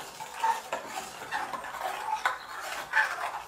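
A mixture stirred in a saucepan while making a light strawberry cake, with soft scraping and light clinks of the utensil against the pan in steady strokes, close and moderately quiet, no talking.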